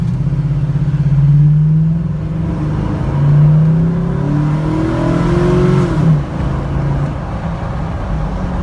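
A car with a K&N air filter upgrade accelerates from a green light, heard with the windows down: engine revs climb in rising sweeps, easing between gear changes, loud and close.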